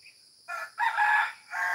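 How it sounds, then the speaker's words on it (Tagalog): A farm rooster crows close by in a single short, loud cock-a-doodle-doo with a faint chirp just before it, against an otherwise quiet background. "Nandyan, tumitilaok-tilaok."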